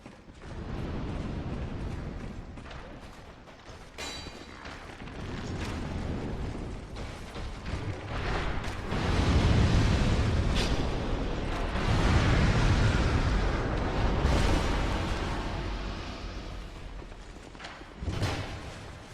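Heavy booming explosions in Dark Souls 2's Brume Tower rumble one after another, swelling into loud overlapping blasts with sharp bursts near the end.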